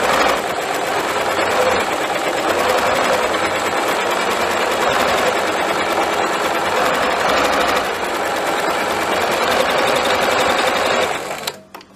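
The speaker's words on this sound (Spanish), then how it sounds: "Comencemos a coser la costura recta." Sewing machine running a straight seam in stretchy Lycra knit fabric under a Teflon presser foot, a loud, fast, continuous mechanical whir held steady for about eleven seconds before stopping abruptly.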